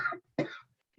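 A single throaty cough followed by a second harsher cough burst during a Zoom meeting, close and fairly loud, with brief quiet gaps.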